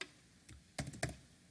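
Several quick clicks of keys typed on a computer keyboard at a desk, faint near-silence broken by two louder bursts of keystrokes, no voice.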